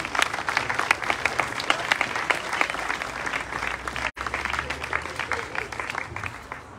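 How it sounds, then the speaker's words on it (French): An audience at a basketball club's season launch evening applauds steadily, with dense continuous clapping and a faint voice underneath, broken by one brief cut near the end. "Damien Fayolle, qu'on peut applaudir."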